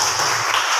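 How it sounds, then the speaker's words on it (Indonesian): A group at a school training session claps hands together in a short, loud burst that stops almost as soon as it starts. "Kita tepuk tangan dulu ya."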